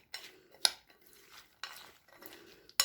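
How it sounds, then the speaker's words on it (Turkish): Metal spoon stirring a walnut and cinnamon filling moistened with syrup in a bowl, a few quiet scraping strokes separated by short pauses, with sharp clinks of the spoon against the dish, close and soft, no talking. "Ve şu kaşıkla da bunu bir karıştıracağım böyle."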